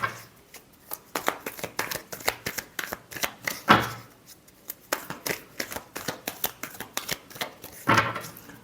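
Tarot cards being shuffled by hand during a reading, a close, crisp run of rapid riffling flicks in repeated bursts with brief pauses and a couple of louder snaps, with no talking.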